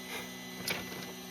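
An EZT3D Model 1 delta 3D printer resets with a faint, brief mechanical whir and a short click-like burst midway, set against a low steady hum.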